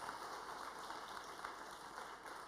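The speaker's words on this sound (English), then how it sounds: "Can we please give them a round of applause to show our thanks?" Faint, steady patter of audience applause from a church youth gathering, soft and continuous with no voices over it.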